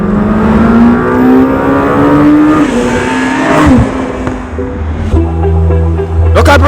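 A Lamborghini Temerario engine, twin-turbocharged, revs while driving, its rising drone stepping through shifts with a brief dip and roar near the end, loud and close with faint wind and road noise.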